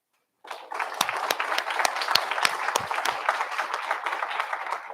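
Audience applause for recipients of a military service award at a board of education public session, starting after a brief silence and holding steady with distinct individual claps through the crowd.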